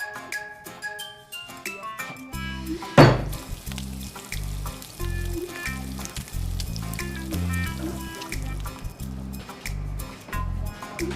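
Eggs frying in a pan in a home kitchen give a steady sizzle under upbeat music, with a single sharp thud near the start.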